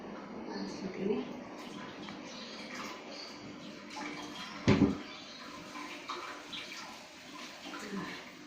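Cooled boiled water poured over freshly boiled cassava leaves in a home kitchen, with gentle splashing and trickling, a brief louder splash midway, and a voice talking faintly underneath.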